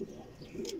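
A brief, soft, low coo from racing homing pigeons kept in a rooftop loft, a single murmuring call heard close up at low volume.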